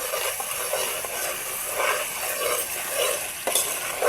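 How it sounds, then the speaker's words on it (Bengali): Cloves, bay leaf and green chilies stirred in hot oil in a pan for chicken biryani: a continuous close sizzle with scraping spoon strokes, no talk. "লবঙ্গ, তেজপাতা ও কাঁচামরিচ দিয়ে সব কিছু ভালোভাবে মিশিয়ে নিব।"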